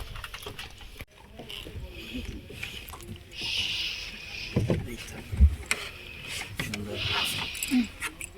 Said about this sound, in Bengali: আমরা এখন প্যাডেল বোট দিচ্ছে, এখানে বোটিং করব।